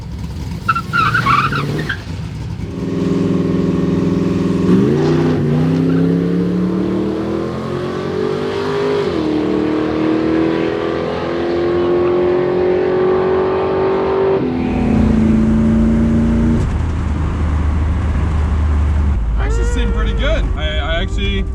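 A car makes a drag racing pass at the Coos Bay track during a West Coast drag and drive rally: the engine revs hard, climbs steadily through long gears with shift breaks, and stays loud and close throughout.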